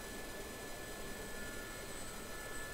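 A small airplane engine on its takeoff roll while the pilot holds the center line crabbed into the wind: a steady, loud droning roar with a constant tonal hum, unbroken throughout.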